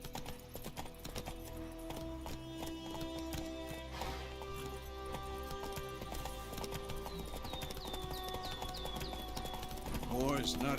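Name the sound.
horse galloping, from video game The Witcher 3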